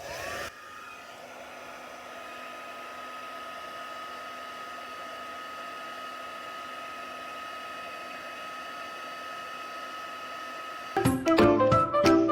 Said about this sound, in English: My heat tool. Let's give this a little bit of heat.